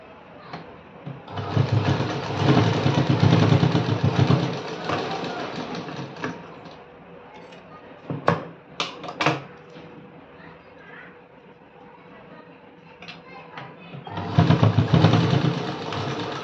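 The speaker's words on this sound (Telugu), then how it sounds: "ఇంకోటి కూడా కుట్టి చూపిస్తాను చూడండి." Sewing machine stitching fabric in bursts, a loud run of rapid stitching, a quieter stretch with a few clicks and handling noises, then another loud burst near the end, with no talk over the stitching.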